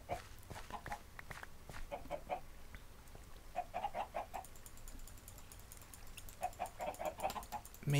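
Chickens in a farming video game clucking in short, soft clusters of calls spaced a second or two apart, quiet and close, with faint chiming game sounds in the background.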